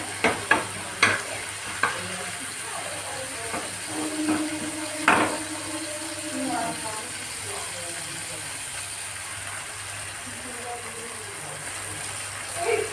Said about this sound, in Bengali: একটু ভালো করে ভাজা না হলে ডিম থেকে গন্ধটা পাওয়া যাবে, তাই একটু সময় রেখে ভেজে নেব।